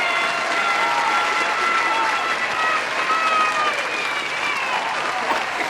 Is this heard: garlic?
no